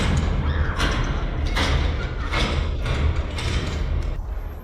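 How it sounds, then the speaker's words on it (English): Six entrance doors closing one after another at the start of the Efteling Spookslot haunted ride, a series of muffled thuds and slams spaced roughly evenly over a low, steady ambient rumble. "As the ride begins, you hear the 6 entrance doors closing."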